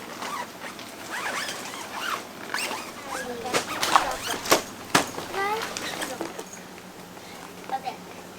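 In a classroom, a plastic math baggie is zipped shut during a lesson, giving a series of quick, scratchy rasps amid shuffling and light tapping while children and a teacher talk around it.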